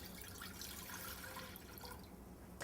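New York maple cider is poured into a big pot, giving a faint, continuous trickling and splashing of liquid that runs steadily for a few seconds before stopping.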